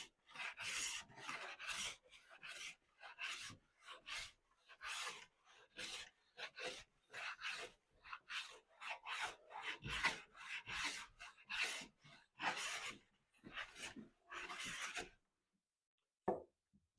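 A hand plane shaves along a wooden board to smooth it, making repeated rasping strokes in a steady rhythm that are close and fairly quiet, then stop near the end.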